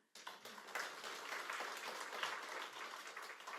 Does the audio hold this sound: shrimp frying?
no